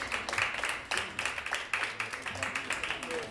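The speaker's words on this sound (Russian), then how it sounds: "Ваши аплодисменты нас очень греют" A concert audience at a show claps in a steady, rhythmic beat, many hands together at a moderate distance, with a voice faintly underneath.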